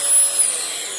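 A Eureka ReadyForce vacuum cleaner runs with its dust bin missing, giving a loud, steady whirring hiss throughout a short stretch with no speech.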